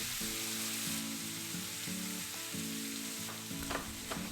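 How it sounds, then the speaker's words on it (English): Cubed chicken thigh sautéing in a pan for a Turkish dinner, a steady close sizzle running throughout under soft background music with a repeating bass pattern, no talk. "I sautéed the chicken thigh cut in cube"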